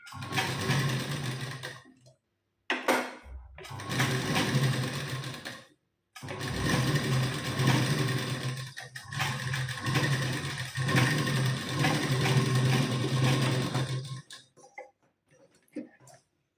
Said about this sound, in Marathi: सावकाश पद्धतीने आपल्याला शिलाई द्यायची, जास्त घाई नाही करायची.